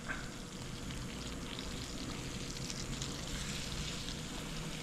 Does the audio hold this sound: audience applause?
no